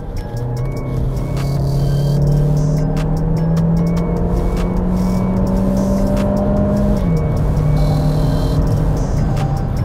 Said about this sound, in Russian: давайте с вами сейчас просто с 70 км в час, и мы с вами ускоряемся.